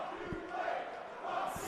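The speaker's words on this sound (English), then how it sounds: "What a terrible chant." A wrestling crowd chants at Blake Christian during a live show, a muffled, distant roar of many voices rising and falling in two surges.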